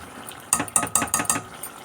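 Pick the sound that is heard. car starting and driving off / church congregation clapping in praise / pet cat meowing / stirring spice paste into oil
stirring spice paste into oil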